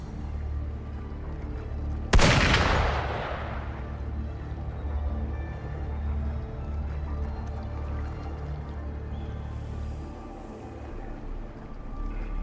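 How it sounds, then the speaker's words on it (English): A single sharp gunshot-like crack in a video game rings out and decays into a continuous low rumbling game soundscape. "Gunfire!"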